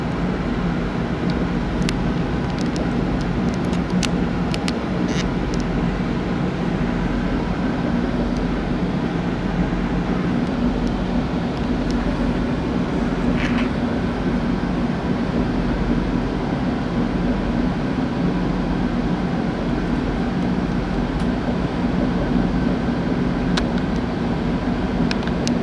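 A train on the Milton line passes near Union Station, giving a steady, loud low rumble with broad mechanical noise that holds evenly throughout, with no voices.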